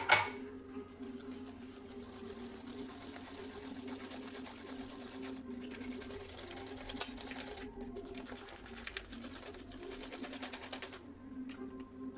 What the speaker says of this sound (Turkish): 200 gram toz krem şanti ve bir buçuk su bardağı sütle bunu güzelce köpürtüyoruz